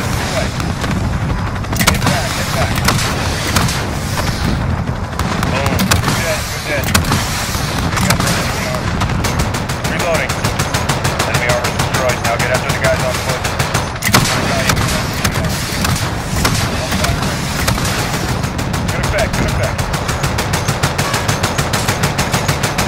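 Air support gunfire in the Call of Duty: Modern Warfare campaign hammers away in long, loud, dense bursts of rapid shots and booms that continue across the whole stretch, with radio chatter mixed in.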